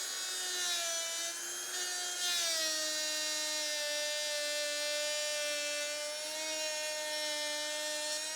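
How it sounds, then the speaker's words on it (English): A wood router makes a climb cut in wood while guided by a hinge jig. It gives off a steady, high, whining tonal hum that bends slightly in pitch as it cuts, close and alone for several seconds. "I am going to do this again as a climb cut."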